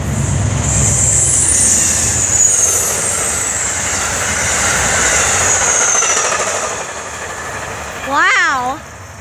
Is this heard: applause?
no